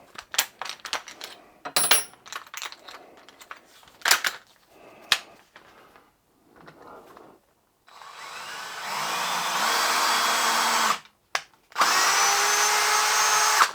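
A power tool cuts threads into a hard, cement-like plastic stud, first with scattered taps and clicks, then a sustained loud whirring run, a brief stop, and another whir.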